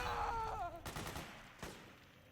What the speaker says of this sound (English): Does he not hear all this gunshots?